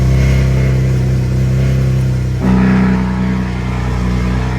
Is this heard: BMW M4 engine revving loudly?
yes